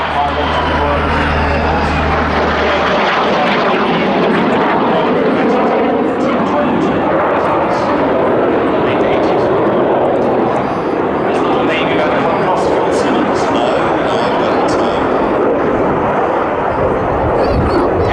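Jet aircraft noise from a BAC Strikemaster display team pair at the Midlands Air Festival, a loud continuous roar filling the whole span with a deep rumble early on, while an announcer talks over it.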